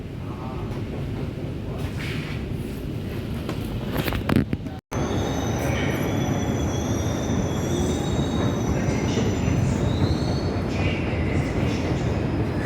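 Inside a moving metro train, a steady loud rumble of running wheels carries on, with a brief dropout partway, followed by high, wavering wheel squeals over the continuing roar.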